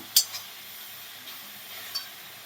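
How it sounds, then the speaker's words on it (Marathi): Tomato puree frying with onion in a pan, a steady soft sizzle with a couple of brief spoon clicks against the pan. "आता यामध्ये आपण टोमॅटोची प्युरी ॲड करायची आहे आणि या कांद्याप्रमाणेच टोमॅटोची प्युरी पण आपल्याला भाजून घ्यायची आहे"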